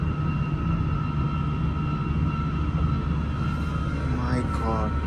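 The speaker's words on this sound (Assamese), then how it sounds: "এইফালে সোমাই গ'ল ট্ৰেইনখন" A Swiss mountain train runs into a tunnel, producing a loud, continuous low rumble and hum throughout. A brief voice-like rising sound appears near the end.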